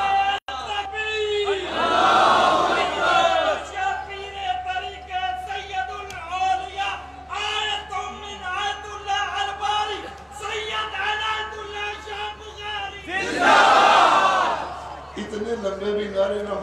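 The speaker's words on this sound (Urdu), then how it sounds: "اتنے لمبے بھی نعرے نہ مارے" A large crowd at a religious gathering roars chanted slogan responses in two loud swells, with a voice speaking and chanting between them.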